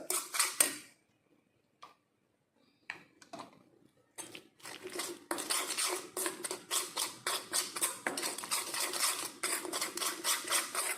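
A spoon scrapes and clicks rhythmically in a small bowl, mixing aloe vera gel and virgin coconut oil into a paste. The sound starts sparse and becomes a steady, close stirring that keeps going to the end.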